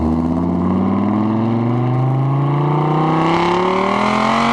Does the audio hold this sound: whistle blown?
no